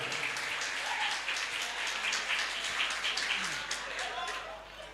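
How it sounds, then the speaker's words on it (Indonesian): Crowd applause at a madrasah thanksgiving gathering, a steady broadband wash of many hands clapping together, sustained and moderately loud with murmuring voices in the background. "Beri tepuk tangan dulu untuk Kang Hadik ya."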